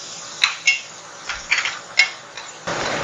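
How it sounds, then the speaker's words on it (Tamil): Chopped onion sautés in hot oil in a pan while cooking an egg masala gravy, giving a steady sizzling hiss broken by several sharp clinks of a metal utensil against the pan. "1 வெங்காயத்தை இதில் போட்டு இந்த எண்ணெயிலே வதக்கிடலாம்"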